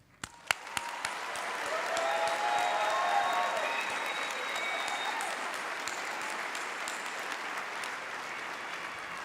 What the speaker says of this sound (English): Please join me in showing all of you the deserving applause and recognition